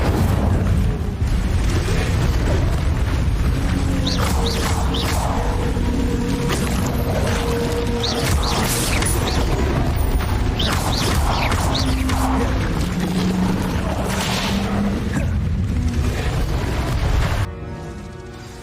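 The Incendio fire spell cast in Hogwarts Legacy, a loud, sustained whooshing roar of flame with bursts and booming swells that carries on steadily, then drops away sharply near the end.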